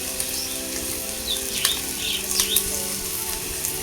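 Green chili paste sizzles and spits as it hits a hot pan, a dense bright frying hiss with a few sharper pops, close up and continuous, with faint bird chirps in the background and no talk.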